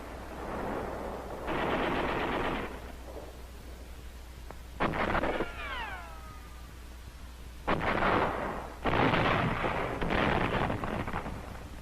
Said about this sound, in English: the Japanese resisted with machine guns, hand grenades, and rifle fire